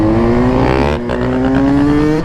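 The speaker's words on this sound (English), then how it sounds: "We got two strokes out here." Two-stroke engines rev hard at a parking-lot ride meet, a loud, steady, buzzing drone whose pitch climbs, dips briefly, then climbs again, with no talking.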